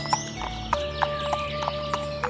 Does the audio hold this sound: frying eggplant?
no